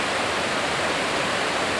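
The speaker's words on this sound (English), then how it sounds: "What's pretty is the sound of that water." Upstream river water tumbles over little rapids and tiny falls near Pringle Falls, a dense continuous rushing roar, close and steady with no pauses or voices.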